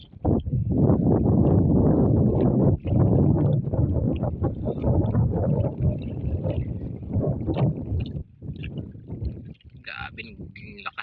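Strong northeast monsoon wind roars across the microphone alongside the wash of waves and a rocking boat at sea, loud and continuous, with a voice speaking underneath.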